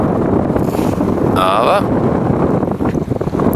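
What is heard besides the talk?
wind blowing into the microphone on a pier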